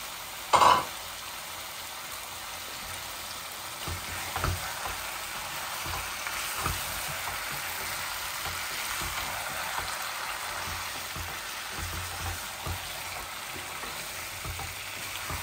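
Potatoes fry in a pan with chicken, giving a steady, moderate sizzle throughout, with one brief clatter near the start and a few faint stirring knocks.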